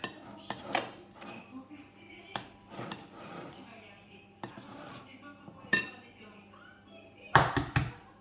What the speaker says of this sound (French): Je mélange le tout avant de rajouter l'huile et les œufs.